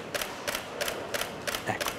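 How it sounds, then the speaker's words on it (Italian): A Canon EOS 7D fires its shutter in a quick burst: six crisp mechanical clicks at an even, rapid pace, close and clear with no talking. "Facciamo sentire quello che a tutti quanti noi interessa, anche perché in qualche maniera fa parte della fotografia, lo scatto"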